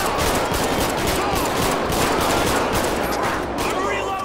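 Sustained, dense gunfire in GTA 5 with the LSPDFR police mod during a late-night patrol, a continuous loud rattle of rapid shots with no break throughout.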